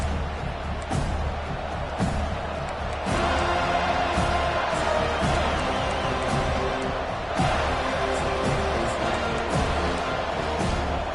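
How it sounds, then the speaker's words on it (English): A football stadium crowd roars at full volume, a dense, continuous wall of noise with sharp bursts and thuds punctuating it throughout. "This crowd, full throat, splitting the eardrums and letting them know it's going to be a long day"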